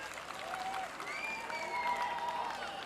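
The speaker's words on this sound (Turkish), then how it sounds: "Hafız Bey olarak değiştirelim diyenlerden bir alkış istiyorum." A festival crowd in Çubukbeli claps steadily for a couple of seconds, with whistles and faint voices threaded through the dense, even applause.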